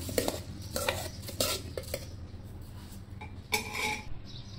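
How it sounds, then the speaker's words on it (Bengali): Dry rice and lentils poured and clattering into a metal pressure cooker, with scattered clinks and scrapes of a utensil against metal, close by. "তো আমি দিয়ে দিচ্ছি চাল আর ডালটা প্রেশার কুকারের মধ্যে"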